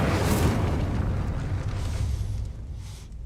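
A fire spell cast in the video game Hogwarts Legacy gives a loud, rumbling fiery blast that swells at once and then roars steadily for about three seconds before slowly fading, with no voices over it.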